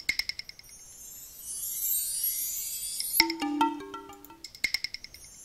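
A short chiming melody accompanying an animation in the video game Witchcraft: The Lotus Elixir, sparkling high tones with a brief run of mid notes, then repeated tinkling clicks, fairly quiet and without voices.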